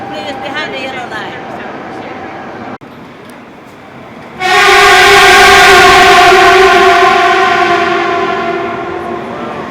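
A Japanese bullet train to Hiroshima roars into the station with a loud, steady rush and a tonal whine, drowning out the quieter platform ambience that came before it.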